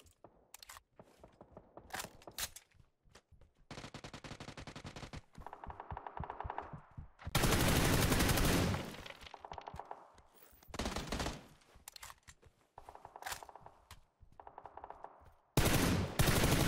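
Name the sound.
gunfire in PUBG video game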